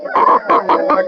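A chicken at a Saturday hen market in Mydukur gives a quick run of four loud, close clucking calls within about a second.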